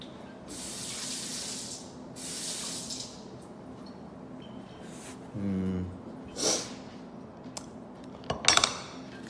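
Disinfectant spray hisses in short bursts onto a kitchen cutting board, followed by dishes and utensils clattering and clinking nearby, with faint background sound between the bursts.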